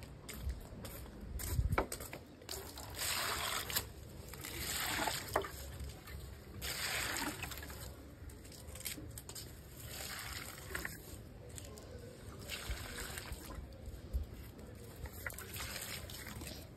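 Water poured by hand onto parched, dry-rooted plants outdoors on a hot day, giving a steady close splashing and trickling that soaks into the soil, with no talking.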